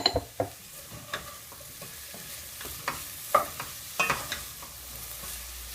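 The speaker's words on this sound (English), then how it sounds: "You can hear it's all sizzling very nicely." Peppers sizzle steadily in a hot pot for spicy bean chili, with intermittent scraping and clacking as they are stirred.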